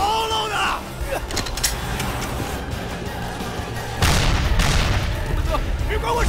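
A bomb explodes in a battle scene from a Chinese war drama: a loud, deep blast bursts out partway through and rumbles on over an already noisy din of fighting and chaos.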